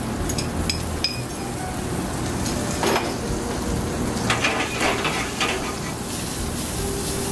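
A Sicilian olive mix with green olives drops into a hot pan, crackling and sizzling steadily up close with light clinks of a utensil against the pan.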